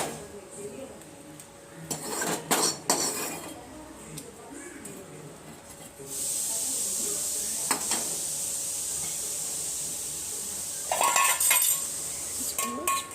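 Mustard seeds and curry leaves hit hot oil for a poricha rasam tempering, giving a steady, close hiss that rises abruptly and holds for several seconds, with clinks of utensils and brief pops before and after; a voice is heard earlier.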